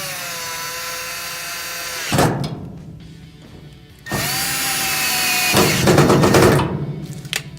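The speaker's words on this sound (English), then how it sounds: "We're going to use our Phillips head screwdriver." A power screwdriver drives screws into the valve coils of a Kenmore gas dryer, with loud whirring bursts between steady motor hum and short pauses, close up and without talking.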